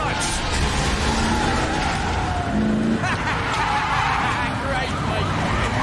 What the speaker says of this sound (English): I heard the sirens, Lino?